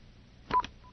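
Telephone line tones sound briefly on an incoming call to a live Afghan TV call-in program, a short pair of close beeps in a quiet line.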